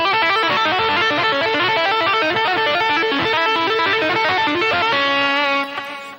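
Electric guitar with distortion and effects playing a fast two-handed tapping lick, the fretting hand shifting down the neck, a dense stream of rapid legato notes, close and loud, ending on sustained notes.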